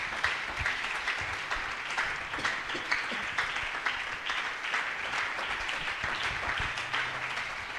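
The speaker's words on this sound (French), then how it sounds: "Tu peux acclamer le Seigneur." A church congregation applauding the Lord, dense steady clapping from many hands filling a large room, continuous and even throughout, with no clear voices above it.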